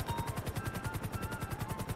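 A video game helicopter's rotor beats in a rapid, even chop, steady and moderately faint with no voices.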